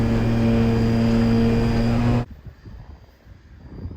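A DIY STOL RC plane flying in strong wind: a loud, close, steady propeller drone that cuts off abruptly halfway through, leaving gusty wind buffeting.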